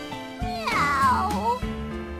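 A character's voice from the BlazBlue video game imitates a cat, stretching out a single nasal, wavering meow that sits close and clear over faint background music.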